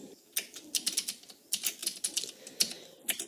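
Fast, close clicking of a computer keyboard while Python code is typed, bursts of crisp keystrokes with brief pauses between words, no voice present.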